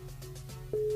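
Telephone ringback tone while a radio show calls a listener, a steady electronic tone that jumps louder near the end of one brief second.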